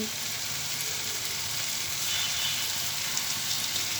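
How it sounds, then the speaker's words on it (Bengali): Ghee hitting a pan of cabbage and egg curry, a dense continuous hiss and crackle close by, steady and fairly loud throughout with no talking. "এখন আমি 1/2 চা চামচ পরিমাণ ঘি অ্যাড করে দিচ্ছি"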